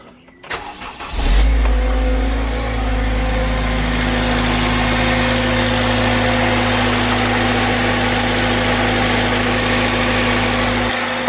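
A Honda Civic Type R fitted with a Tegiwa carbon induction kit cranks and fires up, then settles into a steady, loud, close idle with a constant low rumble.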